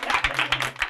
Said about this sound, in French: Applaudissez le batteur